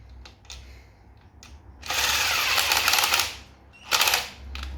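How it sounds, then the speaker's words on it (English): Bolts being fitted into the clutch cover of a Ducati 1098 Streetfighter motorcycle: a couple of short bursts of rapid clicking and ratcheting from a hand tool, close by, separated by quieter taps and handling noise. "all we need to do is put the bolts in on the clutch cover in the same order that we took them off"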